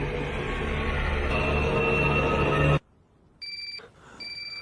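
A telephone rings in a film scene, with electronic ringing tones that sound in bursts after a sudden cut from a dense, loud background, the rings clear and fairly close.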